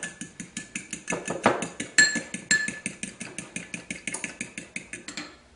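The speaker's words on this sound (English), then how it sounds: "we're going to whisk up our yolks" A whisk beats egg yolks in a bowl with a steady, fast rhythmic clatter of metal against the sides, about four strokes a second, close and fairly loud, with no talking.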